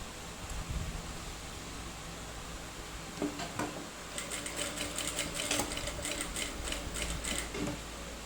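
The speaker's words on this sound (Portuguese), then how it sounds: "vamos passar aqui um pesponto também para ela não sair do sítio" A sewing machine topstitches a backpack panel. A low mechanical hum gives way to rapid stitching bursts in quick succession, fairly close and alone without talk.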